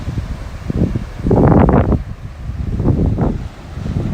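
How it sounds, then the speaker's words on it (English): Wind gusts across a sandy beach after a rainy night, buffeting the microphone with rising and falling rumbling surges over a soft background of surf. "The wind is up a little bit,"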